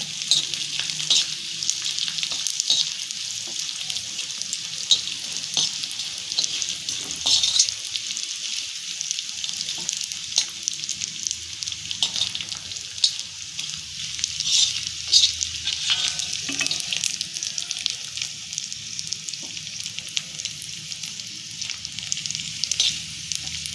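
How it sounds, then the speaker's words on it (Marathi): Edible gum (dink) frying in oil over a low flame, a steady bright crackling sizzle with light stirring, continuous and fairly close throughout. "डिंक तळून घ्यायचा थोडा थोडाच टाकायचा आणि मंद गॅसवर तळायचा"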